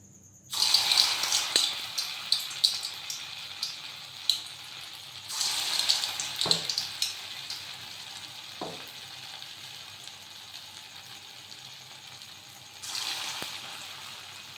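Potato fritters coated in rice flour, salt, turmeric, chilli powder and mustard frying in oil in a wok, giving a bright steady sizzle that swells in bursts, with occasional clinks, close and alone.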